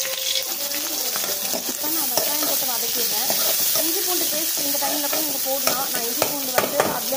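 Green chillies frying in hot tempering oil for a vadacurry, a continuous close sizzle with stirring scrapes and a few sharp crackles, plus faint tonal sounds beneath.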